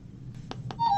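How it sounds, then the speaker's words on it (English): A mobile phone gives off short electronic beeps, two brief blips followed by a steadier tone, over a low background hum with no talking. "Oh, excuse me. That's my phone."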